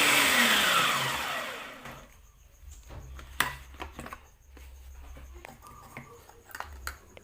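An electric food chopper whirs through a coarse spice paste for Indonesian fish dishes, a loud steady grinding for about two seconds that cuts off, followed by quieter scattered kitchen clatter and taps.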